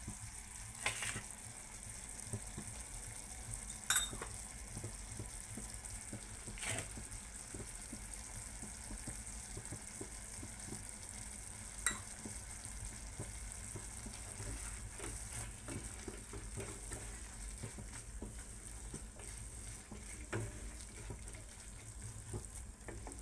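Jaggery melting in a pan with cashew and almond slices, giving a steady low sizzle with a few soft scrapes of stirring, fairly quiet and continuous throughout.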